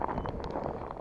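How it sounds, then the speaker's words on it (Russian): Strong wind gusts across a frozen lake during winter ice fishing, a steady, loud, close buffeting roar that rumbles against the microphone for about a second, with no talking. "Какое ветрище, руки отмерзают"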